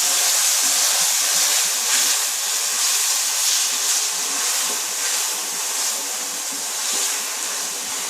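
Garlic and ginger paste frying with onions in a pan for a cauliflower chicken curry, a steady close sizzling hiss that carries on without a break.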